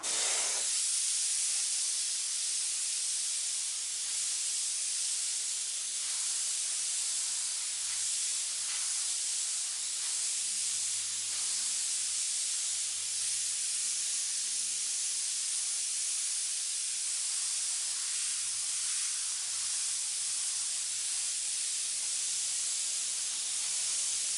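White detail paint sprayed through an airbrush, giving a continuous, steady hiss that runs unbroken at an even level throughout.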